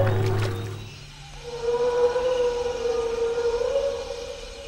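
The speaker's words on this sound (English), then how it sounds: "here, we hear the Brachiosaurus sound from Jurassic Park" The Brachiosaurus call from Jurassic Park sounds as a long, low, mournful wail that slides and then holds a steady tone. It is moderately loud and echoing, with a short rumbling onset.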